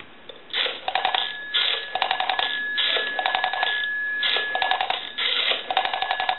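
Through a repaired Western Electric 202 rotary telephone with a bell box, a call to a time and temperature service rings on the line, giving repeated regular ring bursts separated by short pauses, thin and telephone-band, with no voices.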